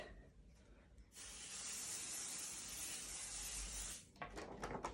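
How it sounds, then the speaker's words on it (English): Pixie spray adhesive from an aerosol can spraying onto the back of a stencil: one continuous hissing burst lasting about three seconds, with quieter handling noises before and after. "I'm going to shake mine up, and I'm going to spray it on the back side of my stencil"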